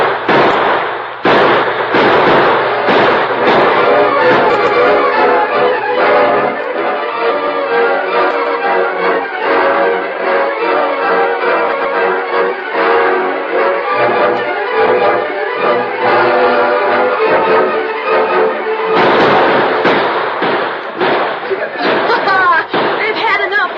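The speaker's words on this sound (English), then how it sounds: "Now, open fire." Rapid bursts of gunfire from an old radio western drama, loud and sustained, with volleys of shots overlapping into a dense crackling barrage that eases briefly before surging again near the end.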